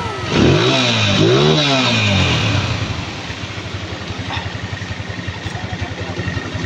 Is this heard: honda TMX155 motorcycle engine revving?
yes